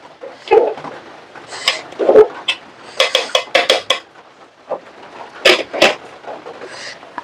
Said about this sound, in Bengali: এখন আবার একটু নেড়ে চেড়ে দিয়ে রাখি, তাহলে ভাতটা ঝরঝরা হবে না